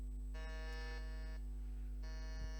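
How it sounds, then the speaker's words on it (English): Quiet electronic quiz buzzer tones sound in a few overlapping bursts over a steady low hum, with no voices. "can all of you just try your buzzers one time, please?"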